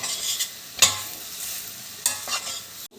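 Mustard seeds fry in a pan for a jackfruit curry, making a continuous close sizzle with short bursts of stirring and crackling, and no speech.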